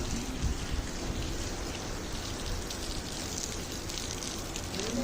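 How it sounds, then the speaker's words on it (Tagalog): Heavy rain pours steadily outdoors in Saudi Arabia, a dense, continuous hiss of drops on surfaces that holds at an even loudness throughout with no breaks. "Lakas ng ulan."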